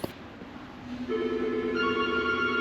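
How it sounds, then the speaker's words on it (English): A telephone rings at a farm repair workshop, its electronic tone starting about a second in and continuing steadily through the rest of the short stretch, moderately loud and alone without talk. "Answer the bloody phone, will you?"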